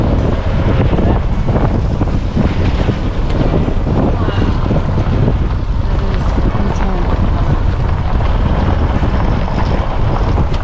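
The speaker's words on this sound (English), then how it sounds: "A bit of wind here." Strong wind buffets the microphone at a rocky gorge in the Flinders Ranges, a loud, continuous roar and rumble with gusty swells throughout, and a voice is faintly audible underneath.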